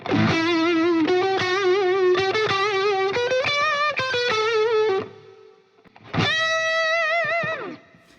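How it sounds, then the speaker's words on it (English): A distorted electric guitar plays a sustained riff, then a final chord rings out and fades with a washy Quantec-style reverb tail. "I'm going to put on the Logic stock reverb. It's a new Quantec reverb."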